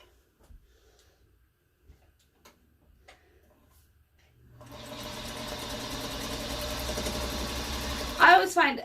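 A sewing machine stitches fabric for foundation paper piecing, starting after a few faint taps and then running steadily for about four seconds, moderately close.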